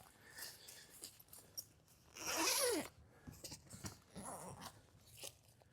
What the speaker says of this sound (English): Let's open up this vestibule and take a look.